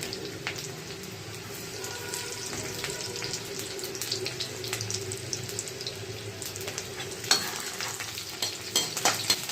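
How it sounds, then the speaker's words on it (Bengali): Chopped garlic frying in mustard oil in a wok, a steady low sizzle with occasional stirring scrapes and clinks, close and moderately quiet throughout with no voices. "এবারে আমি কড়াইয়ে সরষের তেলে সম্বারা দিয়েছি একটু, আর দিয়ে দিচ্ছি রসুন, বারিক কাটা রসুন"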